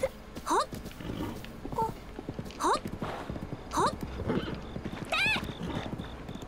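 Horse hooves clip-clop in the video game Breath of the Wild, a steady galloping thud repeated under loud neighing calls, with someone talking over the sounds.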